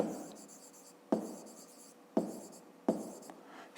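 Chalk or pen scratching on a board as a fifth-grade maths exercise is written out, in short strokes with sharp onsets separated by brief pauses, close and fairly quiet with no talking.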